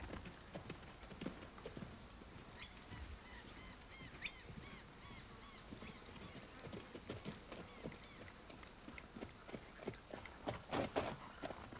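Hoofbeats of an Australian stock horse mare, light and fairly distant clip-clops in an irregular rhythm, with faint bird honks and chirps scattered in the background.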